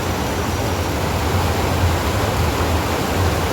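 Rushing mountain stream water on the Kareri Lake trek roars in a loud, steady torrent that fills the whole clip without a break.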